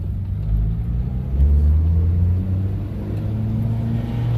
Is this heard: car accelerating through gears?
yes